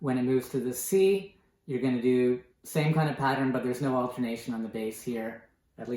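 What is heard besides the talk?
No distinct noise like a dog, phone or traffic.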